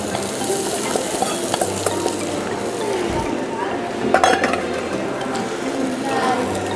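Rice stir-frying in a pan for Thai pineapple fried rice, a continuous sizzle with scraping stirs and occasional metallic clinks of utensil on pan, heard close throughout.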